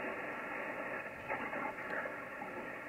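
A ham radio receiver hisses with a band-limited, steady static while its noise cancelling is gradually turned up. The crackling noise stays continuous and even, with faint fluttering traces of speech under it.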